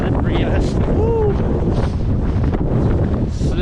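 Strong wind buffets the microphone on an exposed, slippery mountain trail of the Tongariro Alpine Crossing, a loud, steady roar filling the whole few seconds with faint gust swells.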